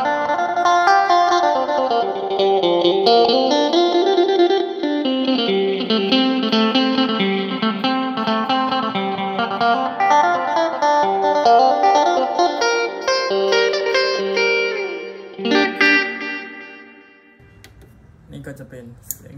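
Electric guitar through a Line 6 POD HD500X with a swirling phaser and lush reverb plays a continuous melodic passage, ringing out before fading into quiet at the end.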